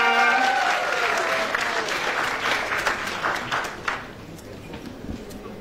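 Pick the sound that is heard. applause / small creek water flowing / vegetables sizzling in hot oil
applause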